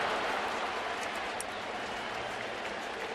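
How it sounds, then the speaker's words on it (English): Distant crowd noise fills Busch Stadium during a Cubs at Cardinals baseball game, a faint, steady wash of cheering and clapping with no clear peaks. "now you hear the crowd"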